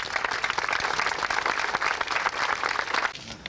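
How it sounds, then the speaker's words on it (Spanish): A congregation applauds to welcome a cardinal and priests at the dedication of a new parish church, a dense, steady crowd clapping that carries on throughout and eases slightly at the very end. "Recibamos a todos ellos con mucho cariño y un fuerte aplauso."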